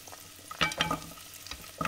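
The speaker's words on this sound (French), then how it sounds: "pour faire revenir nos échalotes" Shallots sautéing in a pan for a butternut velouté, a soft steady sizzle with a few stirring scrapes on top, close and fairly quiet, no one talking.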